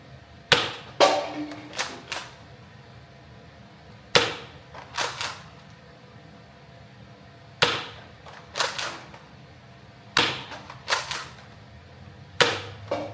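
Toy foam blasters fire one after another, event Rival and Ultra models, each shot a sharp snapping pop, some in quick pairs, scattered across the stretch against a quiet background with no talk.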